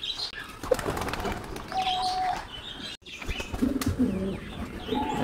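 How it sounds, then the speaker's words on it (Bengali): A pair of Lotan pigeons in a loft coo and flap their wings, with a burst of wingbeats and soft cooing calls at moderate distance, amid faint chirps from other birds. "এই যে আমার কবুতরগুলা মাশাআল্লাহ, এখানে এক জোড়া লটন কবুতর আছে,"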